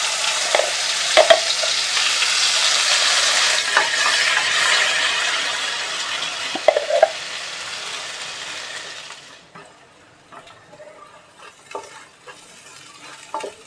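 Ground masala paste hits hot oil already crackling with mustard seeds and cumin for a Malvani-style bhogi vegetable dish: a loud, dense sizzle for about nine seconds that settles into quieter popping and occasional stirring scrapes.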